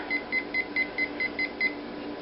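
A kitchen timer beeps in a steady run of about eight short, evenly spaced electronic tones as it is set for baking chocolate cupcakes, clear over a quiet room hum.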